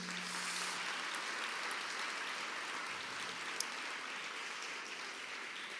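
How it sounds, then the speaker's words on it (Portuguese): Audience applause during a church conference service, a steady dense wash of clapping at moderate level that holds evenly throughout, with no talk over it. "você pode aplaudir Jesus mais uma vez."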